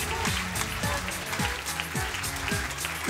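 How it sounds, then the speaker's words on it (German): A comedy-club audience claps and cheers for comedian Stefan Danziger, performing as a tour guide at a Nightwash show. The applause is a dense, continuous wash of clapping mixed with loud rhythmic music hits. "Applaus für unseren Lieblingsstadtführer Stefan Danziger!"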